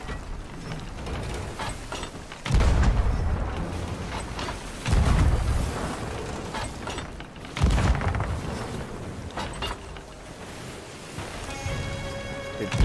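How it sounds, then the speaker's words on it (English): Ship cannons fire in the pirate game Sea of Thieves during a sea fort fight: three heavy booming shots about 2.5 seconds apart, set against constant creaking, sloshing waves and mechanical rattling. "Go for some cannon shots here"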